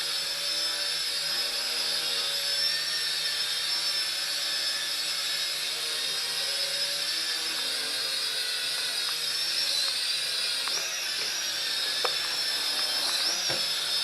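A GoolRC T5W Pro quadcopter drone hovers with a constant high-pitched propeller whine, steady and fairly close throughout, with a few faint knocks near the end and no talking.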